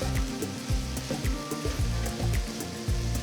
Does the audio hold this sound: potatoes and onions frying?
yes